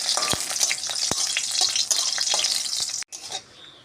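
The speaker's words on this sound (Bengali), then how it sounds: "শুকনো লঙ্কাটা তেলে ভেজে নেব" Dried red chillies frying in oil in a home kitchen, a steady bright sizzle with a few sharp pops, cutting off abruptly near the end.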